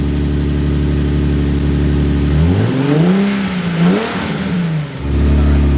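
A Nissan 370Z fitted with new intakes idles loudly up close, then its engine is revved in one sharp rise and fall before settling back to a steady idle, with no talking.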